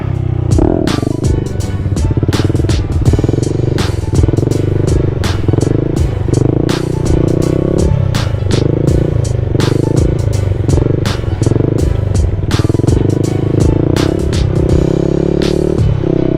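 A Honda Grom motorcycle engine runs steadily and loudly throughout wheelie practice, its buzzing drone rising and falling with throttle changes and punctuated by sharp clattering ticks.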